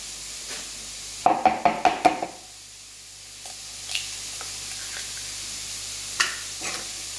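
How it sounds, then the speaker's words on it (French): Eggs, milk, rice and salt stirred in a small bowl: a quick run of six or so sharp, close clinks and scrapes in a row, then quiet with a few softer knocks afterwards. "on va mélanger nos œufs, notre lait, notre riz et notre sel"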